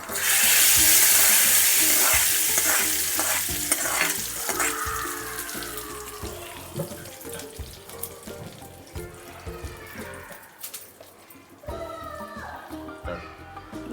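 Lentils sizzle in a hot oil tempering, loud at first then fading, with scraping stirs and clinks of a utensil against the pan.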